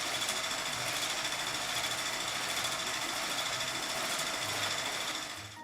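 Electric mixer running steadily on a slow setting, whisking an eggnog mixture, a continuous close mechanical whir and hum with no talk over it.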